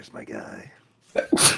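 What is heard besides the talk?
sneeze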